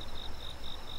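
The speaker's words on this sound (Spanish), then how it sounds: "Esto es una cigarra, ¿no?" An oriental cicada sings in a summer scene from a Shin chan game, with a steady rapid pulsing buzz repeating in even bursts over quiet background.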